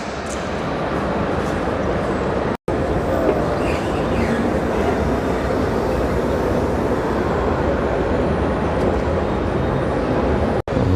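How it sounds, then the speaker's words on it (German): A train pulls in at an underground station platform in Berlin, a steady loud rumble and rolling rail noise filling the whole stretch, with only brief breaks and no speech. "es kommt auch schon direkt ein Zug hier"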